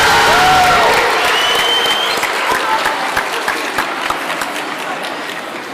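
A room full of people applauds at a schools debating event, dense steady clapping that starts loud and gradually thins and fades over several seconds with no voices.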